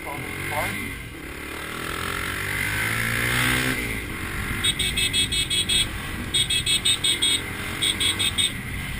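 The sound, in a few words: heavy road traffic heard from a motorcycle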